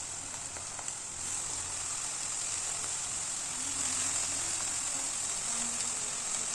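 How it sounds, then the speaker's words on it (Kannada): Chopped leafy greens for soppina palya sizzle and fry steadily in hot oil in a pan, a soft, even hiss that carries on without a break. "ಒಂದು 2-3 ನಿಮಿಷ ಫ್ರೈ ಆದಮೇಲೆ ಹಚ್ಚಿ ಎತ್ತಿಟ್ಕೊಂಡಿರೋವಂಥ ಸೊಪ್ಪನ್ನ ಹಾಕೋತಾ ಇದ್ದೀನಿ."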